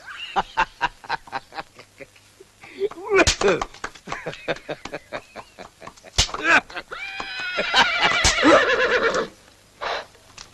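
A white horse whinnies loudly in a long, shaky call, mixed with rhythmic hoofbeats, brief human shouts and other animal honks nearby.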